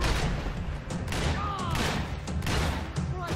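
Gunfire from a rooftop shootout in Max Payne 3, with repeated heavy shots and booms over a busy noisy background and some voice sounds mixed in.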